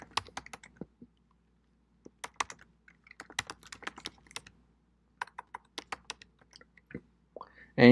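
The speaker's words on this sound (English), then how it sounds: "We're going to type in exploit." Computer keyboard typing, a run of crisp scattered key clicks in uneven bursts with brief pauses, close and fairly quiet, with a short louder sound at the end.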